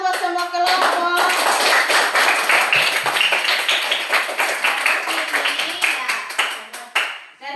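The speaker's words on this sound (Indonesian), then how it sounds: "Tepuk tangan buat semua kelompok" Loud, dense applause fills a classroom as students clap for every group, a steady burst of close hand claps that tapers off toward the end, with some voices mixed in.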